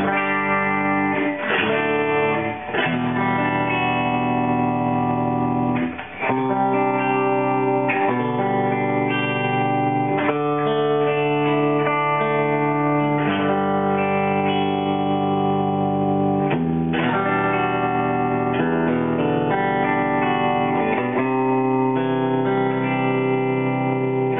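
Bright electric guitar on the bridge pickup strums a sequence of sustained chords with a slightly driven, effected tone, played alone and steadily for the whole stretch.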